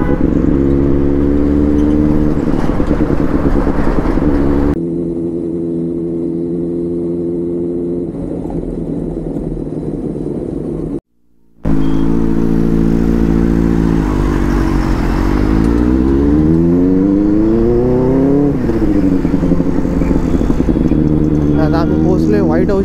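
A Benelli 600i motorcycle on a Sunday road ride, its engine droning steadily with wind rush, rising and falling in pitch as the rider revs and shifts, with a brief cut near the middle.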